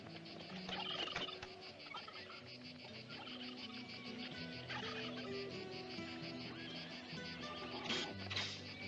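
Laying hens and turkey-like farm fowl in an outdoor Western frontier setting, steady clucking and gobbling calls at moderate distance with insects chirping in the background, no talking.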